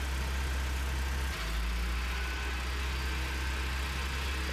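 A farm tractor engine in a video game idles steadily and loudly throughout, with a low rumble that shifts slightly in pitch partway through as it is parked at the farm.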